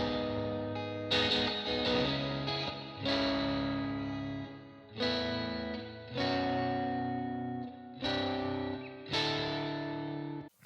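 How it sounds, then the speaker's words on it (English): A distortion plugin colours a synth or instrument part in a music production session, five gritty, buzzing chords sounding one after another, each fading before the next, with no voices. "using distortion in this way as a plugin gives you a lot more control"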